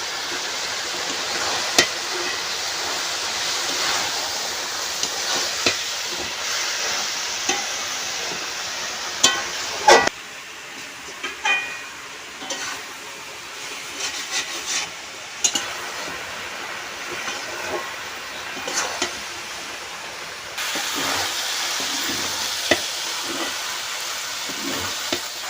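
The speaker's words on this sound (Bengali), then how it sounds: "এখন আমি সবজিগুলো ভালো করে ভেজে নেব।" Mixed vegetables fry in a pan with ginger-cumin paste, a continuous close sizzling hiss broken by scattered clicks and clacks of stirring, with a brief quieter stretch midway and no talking.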